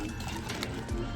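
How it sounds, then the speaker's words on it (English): Birds call faintly in the background of a home kitchen during lettuce prep, a brief, soft cooing that sits under low room noise and a bit of talk. "If you hear them noise in the background, it's just the birds."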